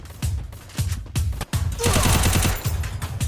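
Rapid automatic gunfire in the game Free Fire, loud bursts of repeated shots with a brief pause, then a sustained dense volley.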